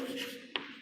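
A pen scratches briefly across paper while working a math problem, quiet strokes ending with a short sharper tap, close and faint.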